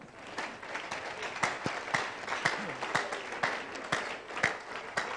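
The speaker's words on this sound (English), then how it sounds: "Give the Lord a clap of." A congregation at a live prophetic ministry church service claps for the Lord in a steady, rhythmic beat of sharp hand claps, roughly two per second, with faint voices murmuring underneath.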